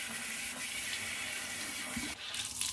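Hot water running steadily from a tap into a bathroom sink before a shave, a continuous close splashing hiss with no talking.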